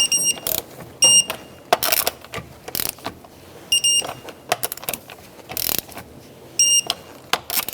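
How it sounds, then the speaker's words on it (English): A torque wrench tightens the front wheel lug nuts on a 2002-2005 Ford Explorer in a crisscross pattern, giving repeated short ratcheting bursts with sharp clicks, close and separated by brief pauses. "So now we're going to torque our wheels."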